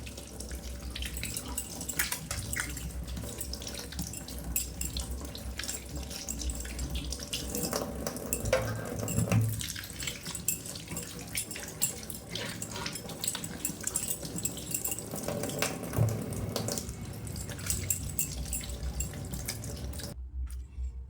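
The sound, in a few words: washing ash gourd under running water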